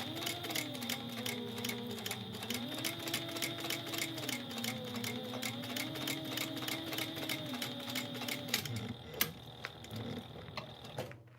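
A sewing machine runs close by, stitching down a fabric back panel with a rapid, even mechanical chatter for about nine seconds, then slows and stops with a few clicks.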